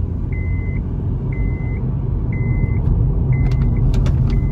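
An automatic car accelerates on a road test while its warped front brake discs make it shudder under braking. Steady engine and road rumble fills the cabin, with a short electronic beep repeating several times and faint clicks near the end.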